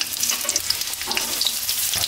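Onion sizzling in hot oil for chow mein, a close, steady crackle with scattered pops and some stirring.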